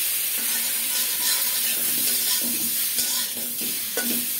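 Eggplant pieces fry loudly in a pan for a rohu fish and eggplant curry, a dense close sizzle broken by stirring scrapes and a few clinks, with no talking.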